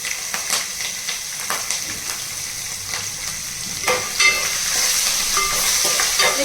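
Slit green chillies sizzle and crackle in hot oil with asafoetida while capsicum pulihora is being made, with a steady close frying hiss and occasional sharper pops.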